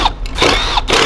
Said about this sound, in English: we have 1, 2, 3 T25 Torx bits we need to remove